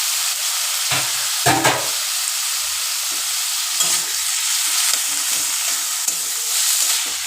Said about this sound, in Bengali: একটু নেড়ে ছেড়ে নিলাম